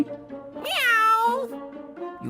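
A single drawn-out cat meow rises and falls in pitch, clear and close, with quieter tonal sounds before and after it.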